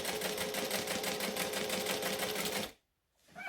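A sewing machine runs a fast, even back stitch, a rapid rhythmic clatter close by for under three seconds, then stops abruptly into near silence before faint handling noise.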